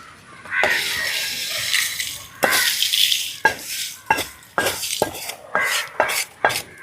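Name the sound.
stirring roasted chutney powder ingredients in a pan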